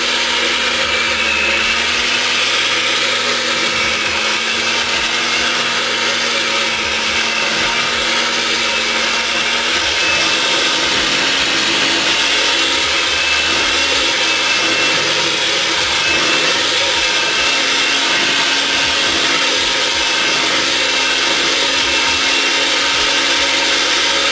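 An electric mixer whirs steadily through cheesecake batter, a loud, unbroken motor drone with a shifting low hum and no voices.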